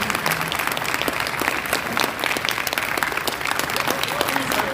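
Applause from an audience at the close of a talk, a steady wash of many hands clapping that runs throughout, with voices mixed in beneath it.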